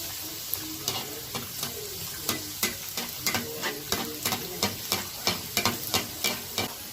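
Bolani paratha with spring onions frying in hot oil, a steady sizzle broken by regular sharp scraping and tapping strokes of a spatula against the pan.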